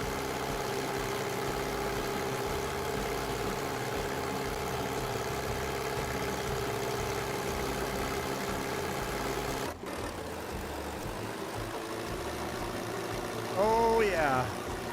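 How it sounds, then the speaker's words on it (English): A vintage John Deere 820 tractor pulls hard on a night silage run, its engine a steady, loud, low throb that never lets up. A sharp click comes near the end, followed by a brief higher whine. "Tractor's definitely pulling it better. You hear it's working pretty hard too."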